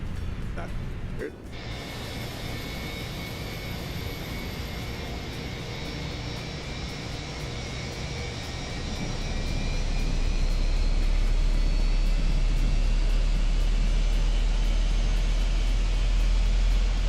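Airbus A321 jet engine in Microsoft Flight Simulator 2024, a steady broadband whine and rumble that swells louder partway through and then holds, with no talk over it.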